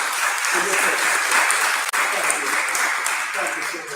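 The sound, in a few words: audience applause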